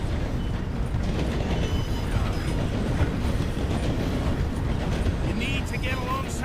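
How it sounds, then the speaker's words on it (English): A video-game train slowing through a station rumbles steadily with rhythmic clattering wheels, loud and continuous, with faint high squeals near the end. "The train is slowing down to go through the station."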